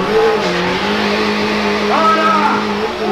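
A car engine, probably a BMW or Audi, roars at sustained high revs during a burnout, loud and close with tyre squeal rising partway through, while a crowd of people talks over it.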